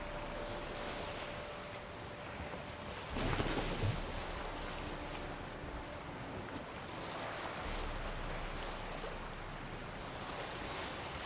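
A sailing boat glides across open water in The Witcher 3, with steady wave wash and wind noise throughout and a brief louder splash near the start.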